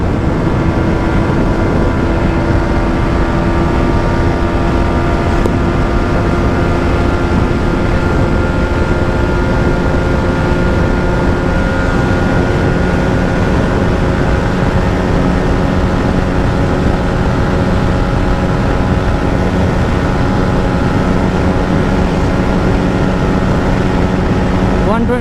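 A 2024 Yamaha MT-15 motorcycle engine on a top speed run in sixth gear, a loud continuous drone with steady tonal whine and wind rush lasting the whole stretch.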